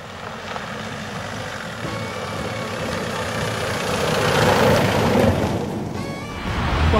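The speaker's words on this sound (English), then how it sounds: "it'll change up the gear, the revs will drop" SsangYong Actyon dual cab engine pulling uphill, a steady mid-loud drone with rising revs and then a dip as the gear changes up, heard from inside the vehicle.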